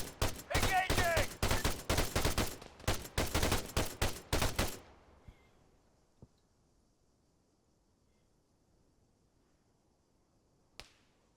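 Rapid bursts of automatic gunfire in Arma 3, loud and dense for several seconds, then a few isolated distant shots and a sharp crack amid quiet.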